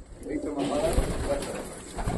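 Pigeons coo softly in a low, murmuring stream, with faint background voices and rustling throughout.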